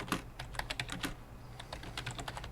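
Fingers tap out a terminal command on a computer keyboard, a quick close run of soft clicking keystrokes in irregular bursts, fairly quiet and with no voices.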